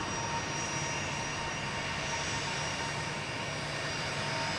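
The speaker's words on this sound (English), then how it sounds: "We got United pulling in here in front. All kinds of noise going on here." A United airliner taxis in at Boston Logan airport, its jet engines giving a steady, loud broadband roar with a faint whine that holds unchanged throughout.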